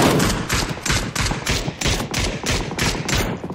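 Rapid automatic gunfire in a shooting video game, loud close bursts of evenly spaced shots firing in a steady rhythm throughout.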